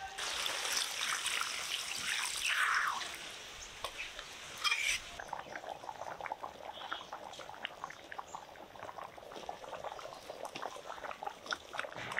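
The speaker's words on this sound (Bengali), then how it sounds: "এবার ঝোলের জন্য অল্প জল দিব।" Water poured into a pot of spiced, pre-boiled mutton to make gravy, a loud gushing pour for a few seconds, then a quieter bubbling simmer with faint stirring clinks.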